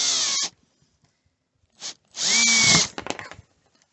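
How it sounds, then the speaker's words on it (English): A power drill driving a bit through a hole. A short whining burst, a brief blip, then a longer high whir that bogs slightly before stopping with a rattle. It sounds close, with quiet gaps between. "See, it wants to slide around there as you're drilling."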